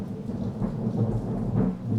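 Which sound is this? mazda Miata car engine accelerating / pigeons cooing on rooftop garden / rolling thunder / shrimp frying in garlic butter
rolling thunder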